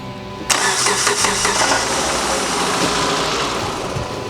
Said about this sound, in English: I do just want to go ahead and fire it up, make sure it runs